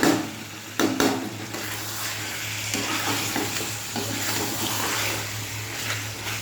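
Whole spices sizzle steadily in hot oil in a pan, with a low constant hiss and a few scraping stirs and clinks near the start, close and alone without talk.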